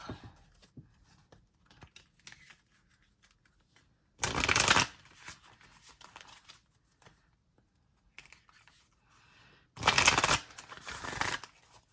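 Cards are shuffled in two loud riffle bursts separated by a pause, with soft handling noises between them.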